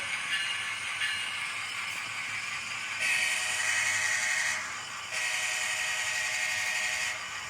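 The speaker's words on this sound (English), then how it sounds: "There's the bell." An electronic bell rings steadily from a model train sound decoder's small speaker, a Kato Amtrak Pacific Surfliner set, in two stretches, layered over a constant hissing whine, with no voices.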